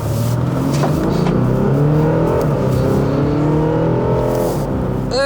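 An Audi A6 Allroad 3.0 BiTDI diesel, Stage 2 tuned, accelerates hard from inside the cabin, a continuous loud engine drone with rising harmonics climbing through the gears, breaking briefly at shifts.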